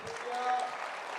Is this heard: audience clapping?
yes